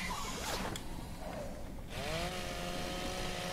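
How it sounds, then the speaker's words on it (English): A chainsaw in the video game ARK: Valguero runs at a steady buzzing drone with a couple of brief revving rises, under constant background noise and with no talking. "Oh, wait, the chainsaw might work."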